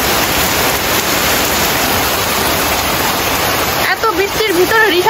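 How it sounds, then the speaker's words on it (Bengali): Heavy rain pours down outside a home in a loud, steady, broadband hiss, joined in the last second or so by a person speaking over the downpour. "কি পরিমাণ বৃষ্টি হচ্ছে আমাদের এইখানে"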